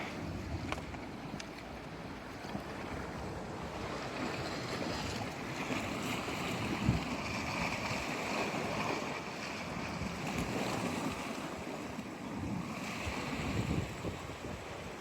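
Ocean waves break against boulders at Elsie Bay, water surging and draining beneath the rocks in a steady rolling wash with wind buffeting the microphone and no speech.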